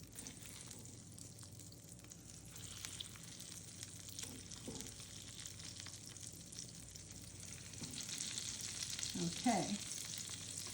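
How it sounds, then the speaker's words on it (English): Chicken piccata pieces sizzle steadily in a hot pan, a broad continuous hiss swelling a little louder near the end, with one short spoken word and a few clinks over it. "Hear the sizzle? That's how you know the pan is ready to go."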